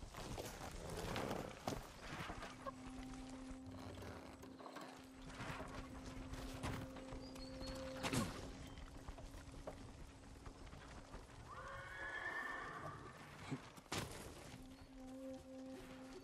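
Horses gallop in the video game Ghost of Tsushima, a quiet, rhythmic clip-clop of hooves moving along at a steady pace, with occasional creaks and a few tonal game sounds over the top.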